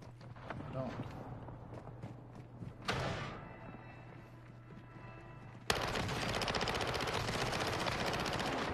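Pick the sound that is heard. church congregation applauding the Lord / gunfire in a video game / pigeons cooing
gunfire in a video game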